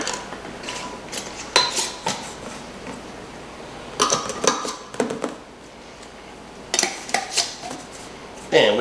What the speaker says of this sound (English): put our lid and the rings on here.